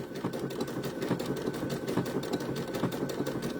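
Sewing machine running steadily while stitching a blanket stitch, fitted with a Schmetz needle; a continuous close mechanical whir with a fast rhythmic needle chatter, alone without voices.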